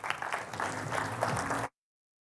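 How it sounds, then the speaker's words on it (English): Audience applause for a panel at a Cape Town conference, a dense burst of clapping from a seated crowd lasting under two seconds, then cut off abruptly to silence. "Let's give a round of applause to the panel."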